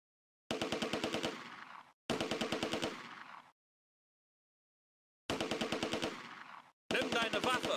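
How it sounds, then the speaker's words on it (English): MG42 machine gun fire in the World War II strategy game Close Combat: A Bridge Too Far, heard as four sharp, fast rattling bursts separated by stretches of silence. "And there is an MG42 somewhere."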